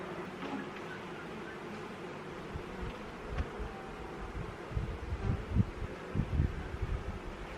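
Honeybees hum around an open beehive at an apiary, a steady close swarm drone with soft rustling and handling knocks growing a little busier toward the end.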